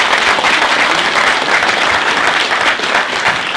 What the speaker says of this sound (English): Please, can we applaud?